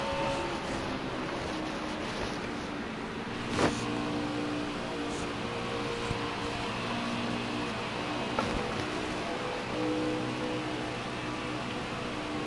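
A NASCAR Cup Series race car at full throttle at the Brickyard in NASCAR Heat 4, a steady, sustained engine drone held at constant pitch, with a couple of faint clicks and no talk.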